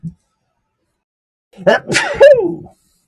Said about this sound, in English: Hold on. Okay. I'm going to sneeze.